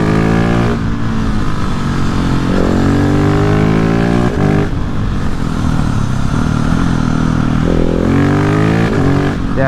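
A 2020 Husqvarna 701 motorcycle ridden on a wet, mossy road, its single-cylinder engine revving up through rising pitch sweeps, dropping between gear changes, loud and close with no talk.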